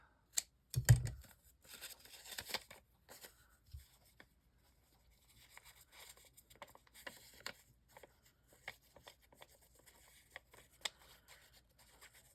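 Cereal box cardboard being trimmed, heard as faint, scattered snips, scrapes and rustles in quick irregular bursts, with one louder thump near the start and quiet gaps between.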